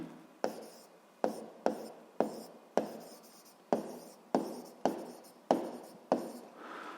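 Handwritten notes being taken during a Ukrainian grade-7 physics lesson: a quiet, close run of about a dozen brisk scratching strokes in an uneven rhythm, each stroke short and rasping, with no talk over them.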